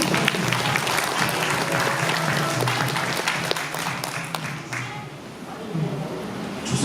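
Delegates at a Democratic Party regional convention in Pocheon-Gayeong give Congressman Kim Min-cheol a big round of applause, a full, sustained wash of clapping from a crowd that eases slightly before swelling again near the end.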